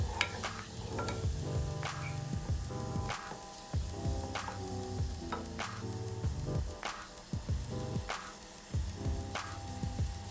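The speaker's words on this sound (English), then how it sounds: "We're just stirring some simple vegetables in some butter." Vegetables are stirred in butter in a pan: repeated scraping strokes over a soft sizzle, set against a steady tonal background.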